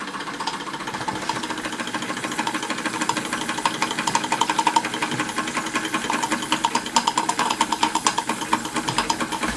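A Stirlingkit Retrol SE-02 model steam engine runs with its attached pump and reduction gearing, giving a steady, close, rapid mechanical knocking and chuffing that builds slightly in level throughout, with no talking.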